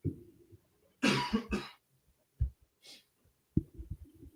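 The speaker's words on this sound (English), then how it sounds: "I just had to get that quick little cough out" One man gives a harsh double cough close to the mic, then a few softer throat noises and breaths follow in an otherwise quiet room.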